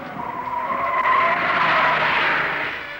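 Race car tires squeal through a bend, a sustained, loud skidding screech that swells and then fades over a few seconds.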